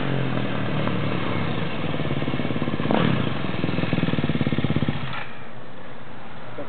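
KTM 450 XCF off-road motorcycle engine idling close by, a steady, rapid thumping beat that swells with a short throttle blip midway before settling back to an even idle.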